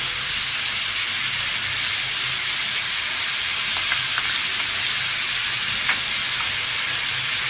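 Loud, continuous sizzle of meat frying in a pan for a whole-spice gosht stew, with a few faint pops and clicks over the steady hiss.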